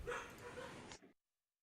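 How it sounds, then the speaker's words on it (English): Dogs bark nearby in a home during a tabletop role-playing session, a muffled burst of barking lasting about a second before cutting off into silence. "Oh my god, the dogs."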